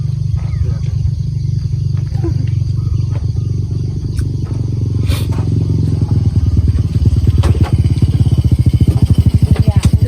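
A motorcycle engine runs close by, a loud low throbbing idle that turns into a rapid, rougher pulsing in the last few seconds as it revs, with brief clatters over it.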